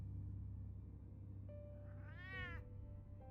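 A cat meows in Batman: The Telltale Series, one drawn-out, rising-and-falling call heard close over a quiet low hum, with no talking.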